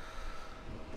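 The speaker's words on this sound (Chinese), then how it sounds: "这个外边简直是风太大了。" Strong desert wind gusts steadily around a parked camper van in the gobi, a continuous, fairly faint rushing roar with buffeting wind noise and no talk.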